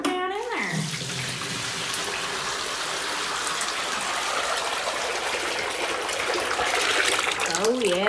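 Liquid ceramic glaze pours from a bucket through a sieve in one continuous, close, splashing gush that lasts several seconds, with brief voice sounds at the start and end.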